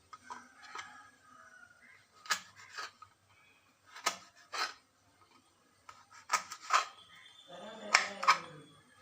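A knife cuts amaranth stems into small pieces in a kitchen, with quiet, sporadic crisp chopping and scraping strokes that come in short bursts separated by pauses.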